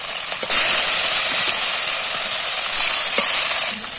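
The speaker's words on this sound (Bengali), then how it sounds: "ফার্স্টে মাছটা ভেজে নিব, নাহলে মাছগুলো লেগে যাবে।" Fish pieces frying in hot oil for a large family meal, a loud close sizzle with a bright hissing edge that swells when something is added, and a few faint clinks, with no talking.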